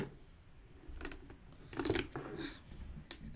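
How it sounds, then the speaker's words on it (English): Poor-quality scissors cut through a cardboard trading card box in a few short, faint snips and crunches, with a sharp click near the end. "Those scissors really are terrible."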